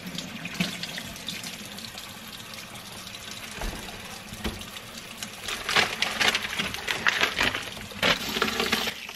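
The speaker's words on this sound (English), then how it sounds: "I'm gonna finish rinsing off the rest of these pork bellies" Tap water runs steadily into a sink as cured pork bellies are rinsed, the splashing growing louder and more broken toward the end.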